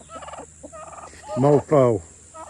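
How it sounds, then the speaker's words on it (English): A big male turkey on a small farm gobbles while in full display. Quieter fowl calls come first, then two loud, rattling gobbles sound close by, and faint clucking follows. "Here's the turk. See the boy? Look at him. Look at his display."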